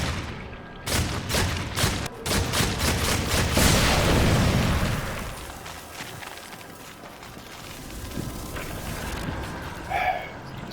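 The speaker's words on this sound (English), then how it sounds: "Destroy the shadow bomb here." A shadow bomb blasts apart in Darksiders 2: a burst of rapid, crackling impacts swells into a heavy booming explosion, then settles into a long rumbling tail.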